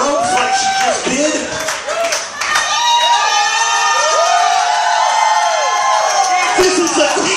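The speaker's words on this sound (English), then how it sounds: "Keep it up, people. Keep clapping. Keep screaming." A crowd at a lucha libre wrestling match claps and cheers loudly, with shrill whoops, children's shouts and excited yelling in continuous waves, and a commentator talks over it.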